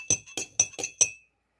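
Spoon clinking against a glass of water with Penetro decongestant medicine, five bright, evenly spaced ringing taps close up, then silence.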